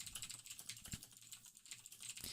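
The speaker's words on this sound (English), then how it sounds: "This is just me typing on it right now." Quiet, rapid keystrokes tap on a computer keyboard in an irregular, continuous patter, heard close and soft through a microphone meant to dampen keyboard noise.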